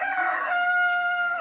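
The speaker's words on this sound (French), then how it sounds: "Voici un son de coq." A rooster crows once from a smart speaker, one long drawn-out cock-a-doodle-doo that is clear and close and ends abruptly, with no voices.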